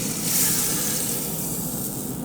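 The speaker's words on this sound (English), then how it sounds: "But listen to it sizzle." Food sizzling in an Instant Pot, a steady close hiss and crackle that holds at an even level throughout with no talk.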